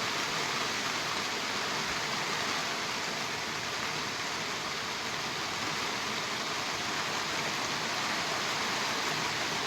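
Heavy rain pours down in a dense, unbroken hiss, even in level for the whole span, and no voices are heard.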